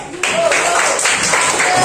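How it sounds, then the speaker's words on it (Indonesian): A class of children claps hands together, a dense burst of clapping that starts abruptly and keeps going steadily for nearly two seconds, with the teacher's voice mixed in. "Tepuk tangan dong."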